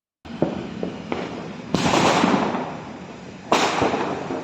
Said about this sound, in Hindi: देखो पटाखे फोड़ रहे हैं